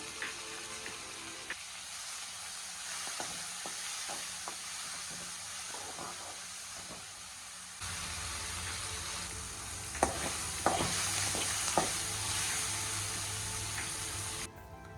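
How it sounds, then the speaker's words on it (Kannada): Two medium tomatoes frying in a pan for chicken gravy give a steady, soft sizzle with occasional stirring scrapes and clinks, growing louder and denser partway through, with no talk. "2 ಮೀಡಿಯಮ್ ಸೈಜ್ ಟೊಮೆಟೊನ ಹಾಕ್ಕೊಂಡು ಚೆನ್ನಾಗಿ ಫ್ರೈ ಮಾಡ್ಕೋಬೇಕು."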